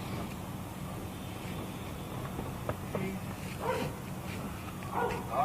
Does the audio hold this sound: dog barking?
yes